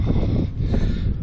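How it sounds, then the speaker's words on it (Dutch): Strong outdoor wind batters the microphone in a continuous low roar with gusty surges, heard alone without any talking. "Dus, er is veel wind vandaag."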